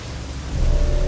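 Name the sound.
rain on Juno Beach map in Company of Heroes video game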